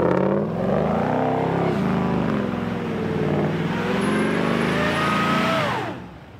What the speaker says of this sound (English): Spin one donut right here without rolling it.